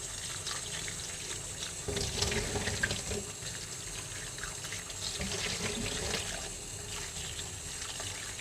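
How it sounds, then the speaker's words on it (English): Tap water runs into a sink while strawberries are rinsed, a continuous soft splashing stream with brief louder gushes as the fruit is moved under it. "First, wash all the strawberries."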